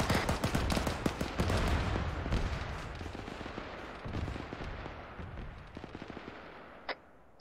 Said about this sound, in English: Charlie's engaging MBT, rocket rocket.